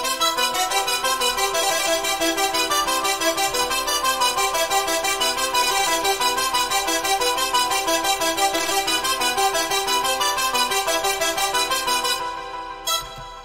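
Layered FL Studio synths blend with a pluck bass made in the Harmless synth into a dense, bright electronic melody with a steady repeating rhythm, loud throughout and tailing off at the end, with no talk.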